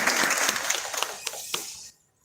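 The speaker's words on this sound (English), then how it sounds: "you can give her a round of applause" An audience at a Harlem town hall meeting applauds, a dense patter of clapping that holds steady and then fades out quickly near the end.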